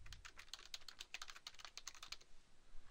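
Rapid typing on a computer keyboard, with quick irregular key clicks heard close but faint, over a soft background hiss and no voices.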